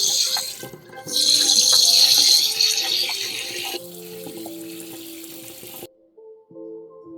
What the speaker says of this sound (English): I'm just rinsing down baking soda down the drain to help clean the drain a little bit